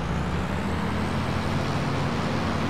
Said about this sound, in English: Nice little meaty engine roar.